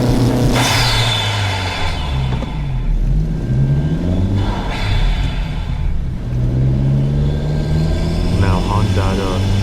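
A 250 WHP Honda Civic Si engine and exhaust, mic'd up, with a steady loud engine drone and rising, falling revs, close and continuous.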